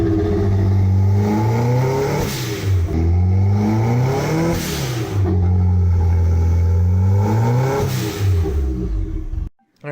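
Toyota MR2 engine running rough, loud and close, idling unevenly with repeated revs rising and falling in uneven surges over a steady low drone, then cutting out abruptly at the end.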